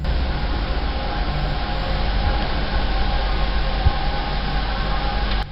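A train rumbling past in the distance near a tunnel, a steady low roar that holds evenly for several seconds with no voices over it.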